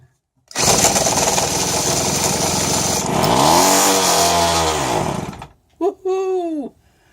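A small Keystone 1.2 outboard motor coughs to life and runs loudly for about five seconds with a buzzing, wavering drone, then cuts out, followed by a brief excited voice.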